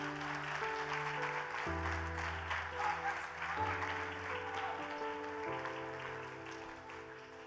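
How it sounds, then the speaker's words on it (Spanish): Church congregation applause rolls on continuously over sustained keyboard chords that change every couple of seconds, the clapping moderately loud and slowly fading. "Pueden aplaudir."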